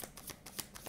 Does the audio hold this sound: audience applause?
no